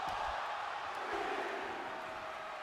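Crowd in the WWE 2K24 wrestling video game cheering, a steady, fairly faint wash of massed voices with no distinct peaks.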